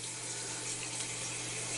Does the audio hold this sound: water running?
yes